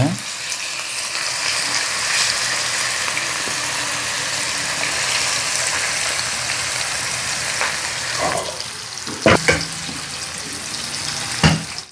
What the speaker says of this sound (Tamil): இந்த மசாலா போட்டதை இப்போ பொறிச்சு எடுத்துடலாம்